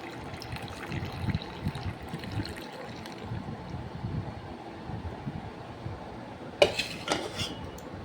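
A spoon stirs milk and sour yogurt together in a bowl with a cardamom pod: soft, steady scraping and liquid swishing throughout, with a sharper clink of metal against the bowl near the end.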